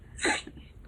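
A single short, sharp sneeze bursts out loud and close in an otherwise quiet room.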